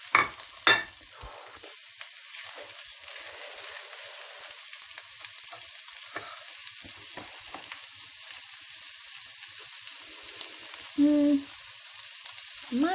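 Steady sizzling and crackling of sausages frying in a pan, close and continuous, with a couple of louder clatters near the start and a brief tone near the end.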